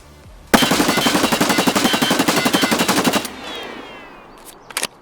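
A 9mm submachine gun fires one sustained fully automatic burst of rapid, evenly spaced shots in the shooter game Escape From Tarkov, loud and close for about three seconds, followed by a faint tail and a couple of light clicks.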